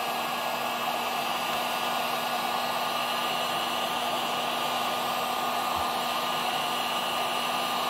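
A heat gun blows steadily at close range while warming a Farmertec 288 chainsaw kit crankcase, giving an even, loud whooshing hiss with a constant motor hum and no talking.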